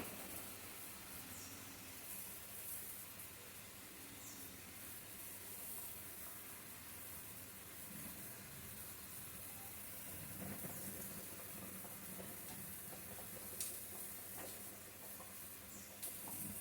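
Curry gravy boils steadily in a pan as eggs go in, a continuous soft hiss and bubbling simmer that stays faint and even throughout.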